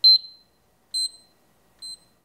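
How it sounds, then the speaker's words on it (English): A PS5 console startup gives three short electronic beeps at roughly one-second intervals, each high and clear, with the last one quieter, against total silence. "disabling the startup beep sound by selecting the option that says mute beep sound"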